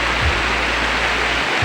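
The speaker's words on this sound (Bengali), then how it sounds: "বৃষ্টি, বৃষ্টি দেখেছো বৃষ্টি, কি বৃষ্টি, একে বলে উড়িষ্যার বৃষ্টি" Heavy rain in Odisha pours down as a dense, steady hiss close by, continuous and unbroken across the short stretch with no other sounds over it.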